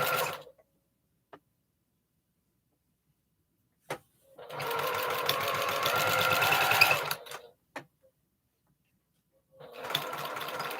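A sewing machine stitches quilt seams for a 4 Star General quilt sew-along, running in two steady bursts, a long run of about three seconds and a shorter one near the end, with quiet pauses and a few clicks between them.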